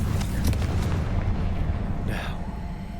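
Confringo fire spell in the video game Hogwarts Legacy, a broad rumbling blast with crackling bursts that fills the clip loudly, fading slightly toward the end.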